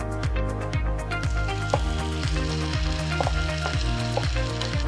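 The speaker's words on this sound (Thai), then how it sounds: "ตอนนี้กระทะร้อนแล้วนะคะ เราจะใส่ ทุกอย่างที่เราหมักไว้ลงไปในกระทะ" Loud, crackling sizzle of gochujang-marinated pork frying in a hot pan, steady and close, with faint scraping and a low droning hum underneath.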